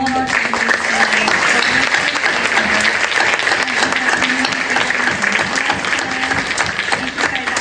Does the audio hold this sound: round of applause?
yes